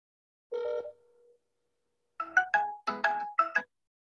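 A telephone ringtone plays alone in short melodic bursts: one brief tone, a pause, then a quick run of several electronic notes.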